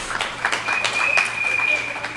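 Audience applause for a former councillor at a live community event in St Augustine, scattered claps mixed with cheering and voices, moderately loud and lively.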